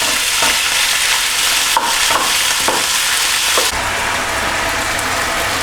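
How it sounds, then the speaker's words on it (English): Lamb for rosemary-skewered kebabs searing in hot olive oil, giving a loud, continuous close-up sizzle with a few sharper crackles and a slight drop in intensity near the end. "so we add our meat. And get that meat searing"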